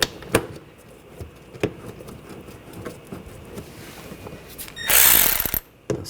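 A hand ratchet snugs a bracket bolt on the 2.5L four-cylinder engine of a 2014-2020 Nissan Rogue, with sparse, close clicks and metallic taps, then a brief louder rasping burst near the end.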